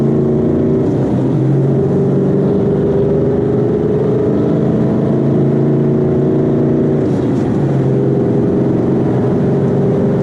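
A 2013 Mustang GT 5.0 fitted with a Mantic twin disc clutch holds quarter throttle, a loud, steady engine drone that stays constant throughout with no talk.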